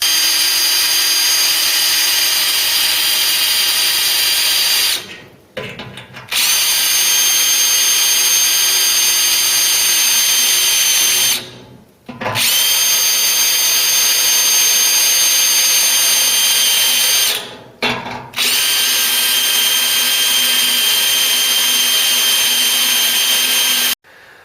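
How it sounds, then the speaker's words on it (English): A power drill bores out spot welds on a Mk3 Cortina body panel. A loud, sustained high whine runs for several seconds at a time, broken by three short pauses between welds. "So you just get a drill bit in. We'll do that now."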